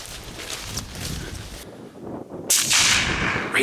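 A rifle shot during a deer hunt on an open hillside, heard as a loud sudden blast near the end after gusty wind buffets the microphone, with a rough roaring tail.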